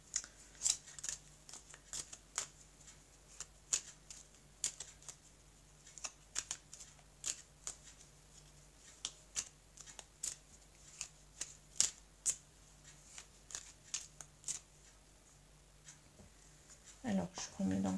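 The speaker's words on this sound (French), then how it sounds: "je vais vous prendre une carte de petit oracle des anges" Angel oracle cards shuffled and drawn from a shoe, giving a steady run of crisp, close flicks and snaps with soft handling rustle between them, ending in a brief louder burst.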